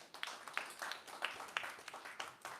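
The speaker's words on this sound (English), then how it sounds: "Ladies and gentlemen, let's give him a round of applause." Scattered clapping from an awards ceremony audience, a thin, uneven patter of hands that rises and falls over a couple of seconds without swelling into a full ovation.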